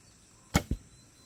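An arrow loosed from a traditional bow past a chronograph: a quick string snap followed a split second later by a softer second thud, brief and fairly quiet against faint outdoor background.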